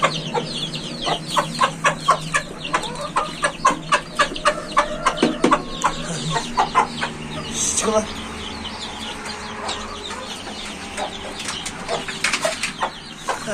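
Chickens cluck in quick repeated bursts close by, with some wing flapping, a few soft human sounds mixed in.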